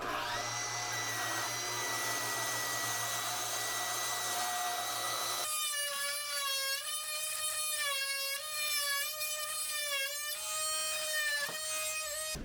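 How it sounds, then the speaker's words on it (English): A track saw whines as it cuts a hole through an epoxy river table slab, starting as a loud broadband motor roar, then shifting to a strained, wavering high pitch as the blade bites in, with a brief dip near the end. "I'm going to use my track saw."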